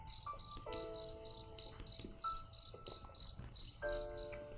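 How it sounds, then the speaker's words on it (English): Crickets chirp in a fast, regular pulsing rhythm, loud and close, with faint tonal notes sounding underneath. "Only crickets?"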